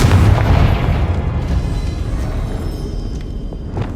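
Confringo fire blasting spell in the Hogwarts Legacy video game: a heavy booming explosion at the start that rolls off into a long rumbling, crackling decay, loud and without any voices.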